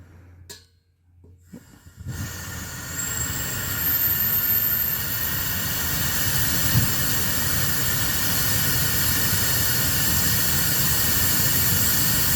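Propane fire pit burner igniting after a few clicks and quiet handling, then roaring into a steady, loud, breathy hiss of gas flame that continues to the end.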